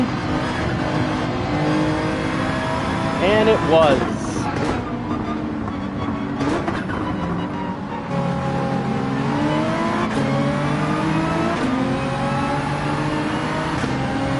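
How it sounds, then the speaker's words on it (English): In Gran Turismo 7, a Ferrari 458 race car's engine roars close by, revving and shifting continuously through a race with other cars, while someone speaks briefly over the engine noise. "Sounds like a 458 beside me."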